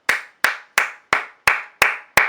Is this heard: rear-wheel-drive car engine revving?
no